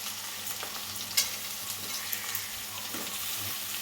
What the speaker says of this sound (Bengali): আলু আর পেঁয়াজটা একসঙ্গে আমরা ভেজে নেবো ভালো করে